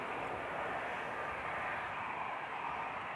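Airliner departing Manchester Airport for Antalya, a steady, even engine roar heard from a distance with no break or change across the stretch.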